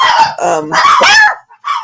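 Dogs barking indoors at a house, several sharp close barks in quick bursts with a short pause before a final bark.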